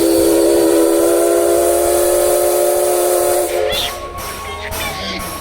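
Steam locomotive at a terminus station in Nikko, Japan, a loud sustained steam whistle with strong hiss that cuts off partway, followed by bursts of venting steam and station ambience.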